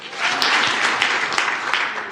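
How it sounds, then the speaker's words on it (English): A church congregation claps together, a loud, dense wash of many hands with a few rhythmic accents poking through, sustained for a couple of seconds before tapering slightly at the end. "Clap, clap."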